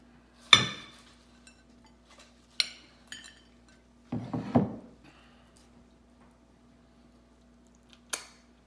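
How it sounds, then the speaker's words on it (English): Food being served onto a plate, with a few sharp clinks and scrapes of utensil on dishware spaced apart, close and fairly loud in a quiet room with no talking. "and put some on the plate."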